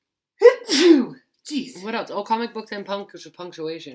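A single loud sneeze bursts out near the start, followed by a person speaking in a casual indoor setting.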